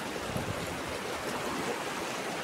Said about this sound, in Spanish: Qué lindo es el río,